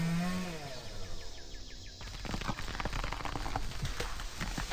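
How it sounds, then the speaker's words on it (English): A chainsaw in the Whack Your Neighbor game revs up loud and close, then roars on in a steady, rough buzz after a short whirring start-up. "chainsaw go vroom vroom"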